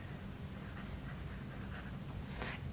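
A broad nib on a Sailor Pro Gear Slim fountain pen writes across paper, a quiet, close, continuous scratchy scraping with slight feedback and a brief brighter stroke near the end, without speech.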